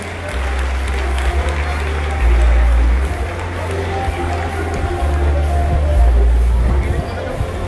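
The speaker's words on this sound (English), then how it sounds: "Let's give him a big round of applause." A crowd at a presidential silent drill competition in Manila applauds the mayor, sustained clapping and murmuring spread through a large space, with a low rumble underneath and voices in the background.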